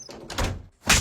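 An indoor door is pulled shut. A soft scrape and low rumble of movement end in a firm, fairly close thud, with no voices.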